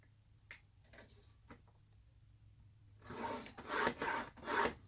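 A scoring tool pressed along designer series paper on a scoring board, heard as three or four close, loud, rough rasping strokes in quick succession after a few faint taps, with no voices.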